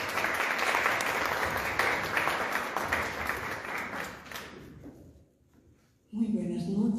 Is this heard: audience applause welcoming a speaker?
yes